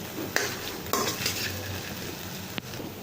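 Chicken for a cheese pasta is lightly fried in a pan, with a spoon clanking against the cookware a few times over a low sizzle nearby and no talking.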